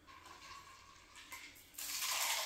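Purple cocktail pouring into a chilled coupe glass, a soft liquid splash that swells louder toward the end, close by with no talking.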